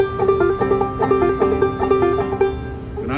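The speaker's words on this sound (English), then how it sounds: "He plays clawhammer banjo mostly with upstrokes," Clawhammer banjo picked mostly with upstrokes, a bright, steady plucked rhythm with ringing drone notes, played close and clear with no talking.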